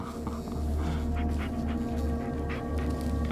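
Bullet the dog in the Blair Witch video game pants rapidly and steadily, a close, rhythmic huffing with faint whimpery tones over a low hum.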